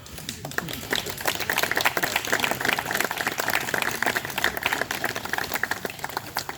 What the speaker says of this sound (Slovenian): Sej to veste, da se sme ploskati